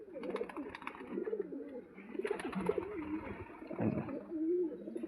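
A golden pigeon coos close by, with soft, throaty rolling calls repeating almost continuously in low, warbling phrases.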